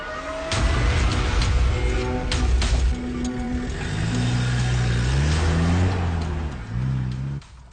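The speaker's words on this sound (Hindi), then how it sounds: "गाड़ी स्टार्ट हो गई" A car engine runs loudly and steadily close by, its low rumble rising and falling slightly as if idling and revving, with no talking.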